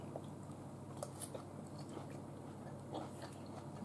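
Crunchy cooked green beans chewed close to the mic, with soft, irregular crisp bites and mouth sounds over a quiet background.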